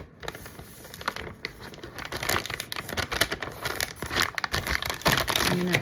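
A plastic peel pouch for sterilizing instruments is folded and creased by hand, giving close, steady crinkling and crackling that runs throughout with small sharp rustles.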